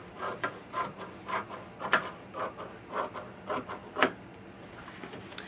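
Scissors cutting straight across a cotton bed sheet, heard as a series of regular rasping snips, roughly two per second, close and moderately quiet, with no voices.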